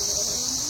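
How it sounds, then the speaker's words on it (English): Cicadas in a botanical garden sing in a loud, continuous high-pitched drone that fills the whole moment without pause. "They are chirping because this is season of cicadas, especially the perennial cicadas"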